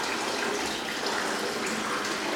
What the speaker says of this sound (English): pour in a jug of cold water into the back